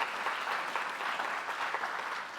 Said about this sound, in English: let's put our hands together and clap all those firms that have reported